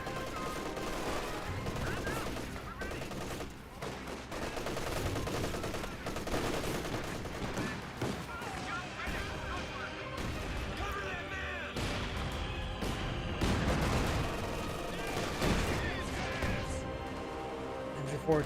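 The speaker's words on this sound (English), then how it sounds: "MG42 firing against the rifleman squad" An MG42 machine gun fires in Company of Heroes 2 battle gameplay, with rapid bursts of gunfire, crashes and explosions layered densely through the scene and a commentator's voice talking over the action.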